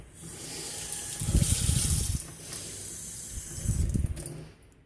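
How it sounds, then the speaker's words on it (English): Hot water runs from a kitchen tap in two short bursts, a close splashing gush that swells and stops, with a quiet pause between. "So I just use a little bit of hot water from the tap."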